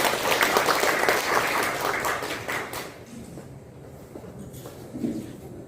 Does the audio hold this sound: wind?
no